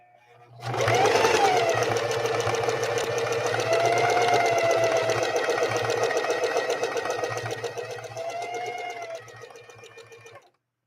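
A Singer 4411 sewing machine runs at a higher speed stitching fleece, giving a steady, close mechanical whir and needle rattle that starts abruptly, holds for several seconds, then slows and stops.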